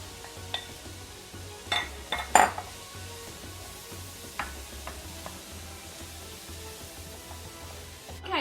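Garlic and mushrooms cook in a skillet with a soft, steady sizzle, broken by a few sharp clinks of a utensil against the pan early on, then quieter simmering, close by and without speech.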